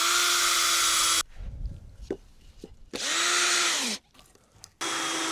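A power drill drives screws into wooden boards, loud and close in three long steady whirring runs, with a brief wind-down at the end of one. Quieter clicks and handling noises fill the gaps between them.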